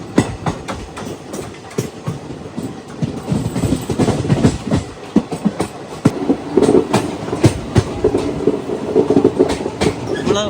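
An Ananthapuri Express train running from Chennai toward Kerala rattles loudly, with repeated clickety-clack wheel beats over rails and a constant rumbling drone throughout.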